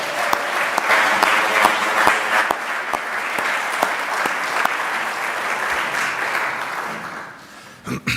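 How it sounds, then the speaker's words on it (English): A congregation at a Sunday service in a Unitarian Universalist fellowship gives rousing applause, loud and sustained for about seven seconds before tapering off, with a few scattered claps at the end. "we want to give a rousing applause"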